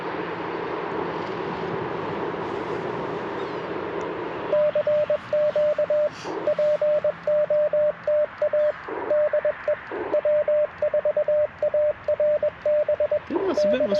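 Morse code beeps from a radio sound out as a steady pitched tone keyed in rapid dots and dashes over a hissing static background, beginning a few seconds in and continuing to the end.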